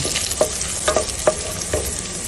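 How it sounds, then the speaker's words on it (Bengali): Garlic fries lightly in oil under a soft, continuous sizzle, punctuated by about four sharp scraping strokes of a spatula against the pan. "রসুনটাকে আমরা হালকা ভেজে নিব।"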